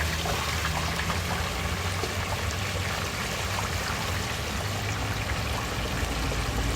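A whole turkey being lowered slowly into a pot of hot frying grease for deep frying, giving a loud, steady, churning bubble and hiss that runs unbroken throughout, with no talking.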